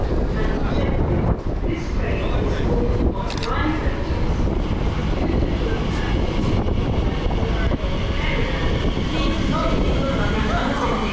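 TfL Rail Class 345 train at London Liverpool Street, a loud, dense, continuous roar and rumble of the train up close, with steady station noise and no clear break.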